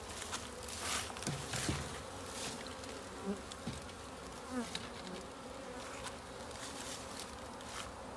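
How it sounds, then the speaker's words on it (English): A dense, steady buzzing of many honey bees from an opened hive box fills the air continuously, with occasional louder passes of individual bees close by. "you can see there's about 8 frames of bees here"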